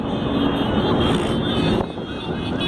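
A filming helicopter drones overhead above central Brasília during a large motorcycle gathering, its engine and rotor noise a steady, fairly loud roar that dips briefly near the end.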